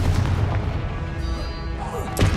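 A Confringo blasting spell bursts in Hogwarts Legacy gameplay, a loud booming explosion with rumbling low end, followed by a second sharp blast near the end amid continuous battle noise.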